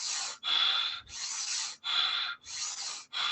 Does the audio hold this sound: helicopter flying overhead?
no